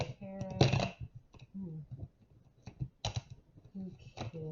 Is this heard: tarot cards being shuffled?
yes